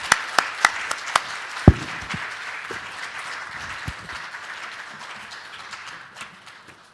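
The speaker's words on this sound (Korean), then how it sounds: "감사한 박수 한번 하시죠" Church congregation applauding during an elder ordination and deaconess installation service, opening with a few sharp individual claps that swell into sustained applause, then gradually thin and fade.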